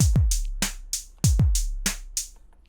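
A programmed drum pattern from a PO-32 drum machine, with deep booming kicks and crisp hi-hat ticks in a tight, repeating electronic rhythm.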